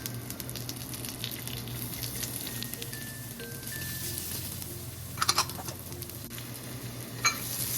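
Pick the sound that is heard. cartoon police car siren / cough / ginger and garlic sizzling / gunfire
ginger and garlic sizzling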